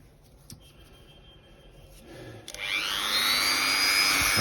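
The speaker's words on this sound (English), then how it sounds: "rather than trying to do it above the noise of the drill" An electric drill fitted with a bit spins up about halfway through, its high whine rising and then holding steady and loud after a few quiet handling knocks, during repair work on Barbie doll hip and arm joints.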